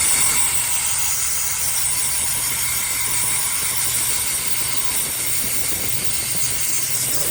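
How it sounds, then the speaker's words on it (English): Brake cleaner sprayed from an aerosol can into a camshaft sensor connector on a Cadillac ATS 2.0L or 2.5L engine, a loud, steady, close hiss that runs unbroken from start to finish. "then I'm gonna blow out the brake cleaner."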